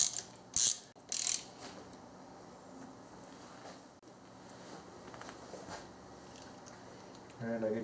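A ratchet tightens bolts back into a Subaru power steering pump, with bursts of close, rapid clicking near the start and softer mechanical clatter afterward.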